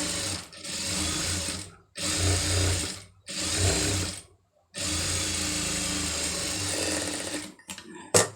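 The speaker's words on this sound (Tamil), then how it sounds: "இந்த மாதிரி தைக்கிறது ஒட்டு தையல் போட்டுருங்க" Sewing machine stitching a designer sleeve in plain cloth, running in several loud, steady bursts separated by short pauses, with a brief mechanical clatter at the end and no talking.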